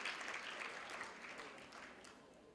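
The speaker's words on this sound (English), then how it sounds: "I think you need to applaud him for that." A graduation ceremony audience at Walter Sisulu University in Buffalo City applauds in a dense, steady wash of hand clapping that slowly fades.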